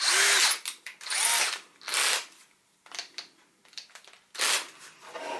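A power drill bores drain holes into a wooden bird box, sounding as several separate loud bursts of whining drilling with brief pauses between them, close by and with no talking.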